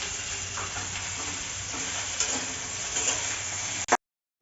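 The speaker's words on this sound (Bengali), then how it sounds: "ফুলকপির তরকারি করে নিচ্ছি" Cauliflower curry fries and is stirred in a pan, giving a steady close sizzle with soft scraping throughout before cutting off abruptly near the end.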